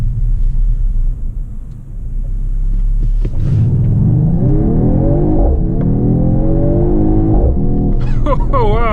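A 2020 Mercedes-AMG GT 4-door coupe accelerating hard, deep engine rumble rising in pitch through the gears, loud from inside the cabin, with a brief voice reaction near the end.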